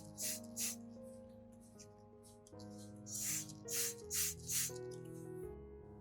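A spray bottle mists water onto orchid plants, giving several short soft hissing puffs in two bursts over quiet background music.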